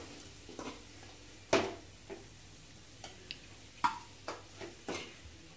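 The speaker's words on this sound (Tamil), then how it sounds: "இப்போ இந்த ஃப்ரை பண்ண கிழங்கையும் இதில் ஒன்றா போட்டு ஒரு 2 மினிட் வதக்குங்க" Fried elephant foot yam being sautéed in a pan for a spicy yam curry: sparse, quiet scrapes and taps of a spatula against the pan, with a faint sizzle underneath and no talking.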